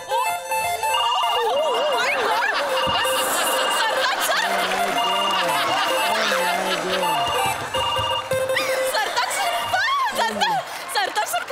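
Telephones ring with a warbling electronic tone on a comedy stage show, the ringing mixed with busy background noise and voices.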